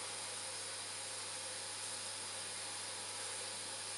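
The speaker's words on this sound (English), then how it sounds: "As you can see, I've got a decent head of steam now." Steam hissing steadily from a small test boiler under a decent head of pressure, a continuous broadband rush with a faint low hum beneath, no talk.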